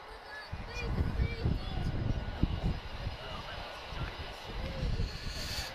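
Fixed-wing aircraft engine roaring steadily at an air show, a moderately distant continuous drone with broadband wind-like texture.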